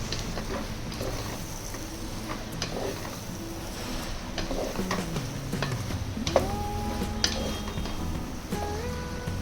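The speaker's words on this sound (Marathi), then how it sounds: "सोयाबीन ही या मसाल्यामध्ये छान मिक्स करून घेऊयात." Soaked soybeans being stirred into sizzling masala in a frying pan, steady frying hiss with repeated scraping and clinks of the spoon against the pan.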